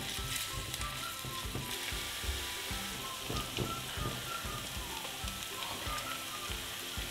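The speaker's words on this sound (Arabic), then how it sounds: "بطنجرة على النار بحط زيت زيتون، وبضيف عليهم نص كمية البصل، وبقلبهم لحد ما يبلشوا ياخدوا لون." Onions sizzling in olive oil in a pot on the stove, a steady dense crackle with occasional stirring scrapes and no voices.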